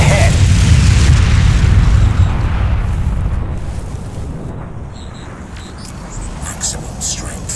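A heavy artillery blast in the shooter game Crysis Warhead, with a loud low boom that rolls and decays over several seconds into a rumbling, windy tail, faint voices over it.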